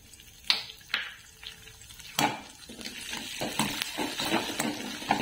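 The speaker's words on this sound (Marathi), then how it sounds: "आता यात आपण थोडा थोडा करून रिंक तळून घ्यायचं आहे" Edible gum (dink) frying in hot ghee in a pan: a soft, steady sizzle with bubbling that builds gradually, punctuated by several sharp clinks and scrapes of a utensil against the pan.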